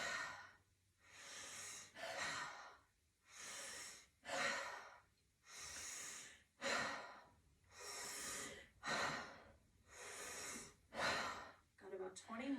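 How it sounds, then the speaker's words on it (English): Deep rhythmic yoga breathing, paired forceful inhales and exhales repeating in regular bursts with short pauses between, close and clearly audible in a quiet room. "Just continue breathing."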